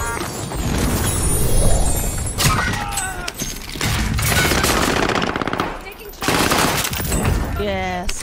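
Rapid automatic gunfire from the UGM-8 in a shooter video game crackles in loud bursts with impacts and breaking sounds, while players talk over the action.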